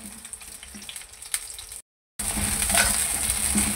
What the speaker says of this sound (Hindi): कभी भिंडी को ज़्यादा फ्राई नहीं करना चाहिए